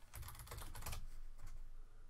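Rapid typing on a computer keyboard while playing Buddy Simulator 1984, a burst of close, busy key clicks that thins out toward the end, with no voices.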